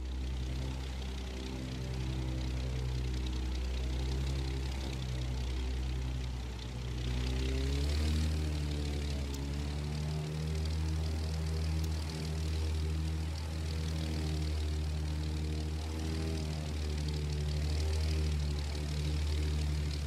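A propeller airplane engine in The Crew 2 racing game drones steadily and loudly throughout during a knife-edge flight maneuver, pitch shifting slightly midway, with no talking.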